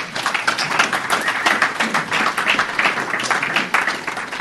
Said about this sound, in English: I think we should all just applaud him to bug the shit out of him